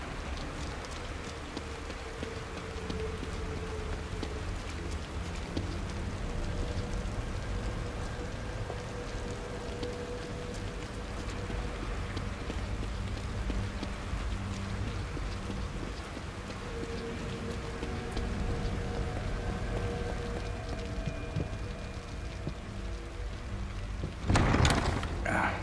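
Steady rain falls in the horror video game The Evil Within, a constant hiss of drops on surfaces with faint distant rumbles, continuous throughout and ending with a brief louder burst.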